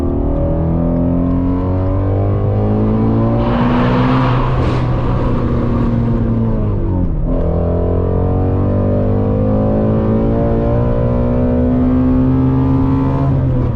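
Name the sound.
Ford Mustang GT350 engine revving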